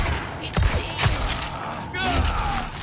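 Gunfire in the video game Resident Evil 4 Remake: a few sharp shots crack roughly half a second apart amid game noise, with a player talking in Portuguese over them.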